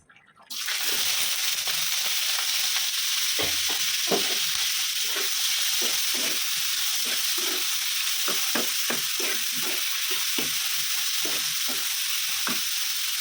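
Onions frying in a pan for a dry egg curry: a loud, continuous broadband sizzle starting abruptly, steady throughout, with faint stirring and scraping ticks scattered beneath.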